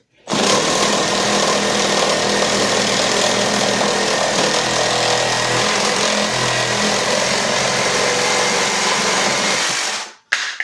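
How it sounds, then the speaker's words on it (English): A Makita brushless reciprocating saw cutting wood on its high setting, a loud, continuous buzzing rasp of the blade that runs steadily for about ten seconds and then stops abruptly, close up with no talk. "cut with this sawzall. Again, I'm going to do another cut on high."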